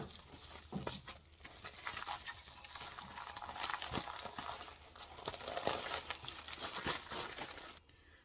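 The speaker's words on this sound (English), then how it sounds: "this is another padded flat rate envelope that I use for a lot of jeans and sweaters" A padded flat rate mailing envelope is handled up close, giving a steady soft crinkling and rustling of plastic and padding that stops near the end, with no speech.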